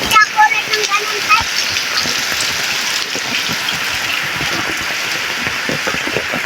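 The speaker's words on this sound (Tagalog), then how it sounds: "Lakas ng ulan." Steady heavy rain hisses across the whole clip, a dense broadband wash with scattered splashes and drips, with a few brief birdlike chirps at the start.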